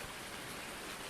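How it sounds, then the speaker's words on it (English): Steady rain in a farming simulation video game, a dense, even hiss of falling drops with no pauses and no voices. "And here we are in the morning, and it's raining."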